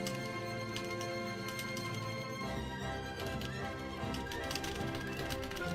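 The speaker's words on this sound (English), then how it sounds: "Can you guys hear me slamming my keyboard too?" Someone hammers hard on a computer keyboard during a Godot boss fight, a dense clatter of rapid keystrokes mixed under loud game music and effects.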